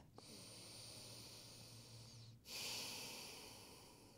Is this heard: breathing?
yes